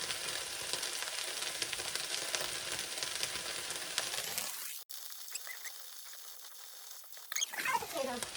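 Vegetables sizzle and fry steadily in a pan for several seconds, a dense close hiss that briefly cuts out and then returns more faintly with some stirring near the end.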